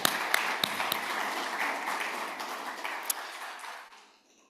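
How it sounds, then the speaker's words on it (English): A room full of people at a closing ceremony claps steadily, dense and fairly loud, with a few sharper claps standing out before the applause fades away at the end. "So a round of applause for those two guys."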